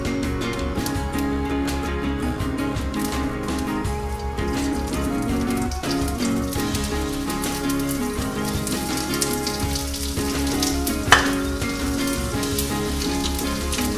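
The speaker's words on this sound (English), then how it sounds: "Keep on stir frying them for about another minute." Dried anchovies stir-frying in vegetable oil in a frying pan for Korean myeolchi bokkeum, giving a steady, dense sizzle and crackle like light rain that carries on throughout, with faint clinks of stirring and no talk.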